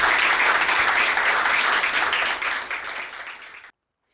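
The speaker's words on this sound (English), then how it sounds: "let's have a huge round of applause for Patnaik" A large audience at an open session applauds loudly and continuously, the dense clapping fading slightly before cutting off abruptly near the end.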